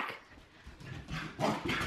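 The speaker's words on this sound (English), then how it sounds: "Corgi on the loose!" A corgi barks and yips excitedly indoors in a loud, busy mix, with repeated bursts over noisy background commotion.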